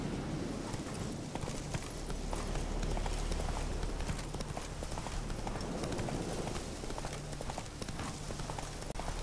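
A horse gallops in The Witcher 3 video game: a continuous, rapid clip-clop of hooves, moderately loud, over a rustling outdoor background.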